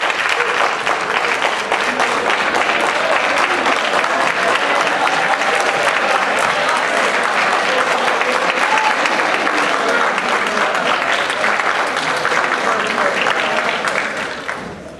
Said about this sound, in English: Please stand up to give you a round of applause.